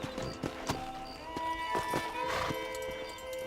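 Horse hooves clop at a walk in Red Dead Redemption 2, a few distinct hoof falls heard under faint game ambience and tonal music.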